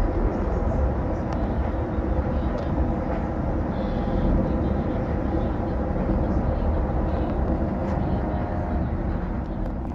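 Amtrak Pacific Surfliner train rolling through farmland in Ventura County, a steady low rumble and rattle of wheels on track heard from inside the car, continuous and even throughout.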